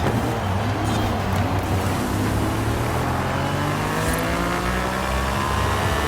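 Cadillac race car in the Forza Horizon 5 video game, its engine droning loudly and steadily as it drives, pitch shifting slowly with the throttle, no talking.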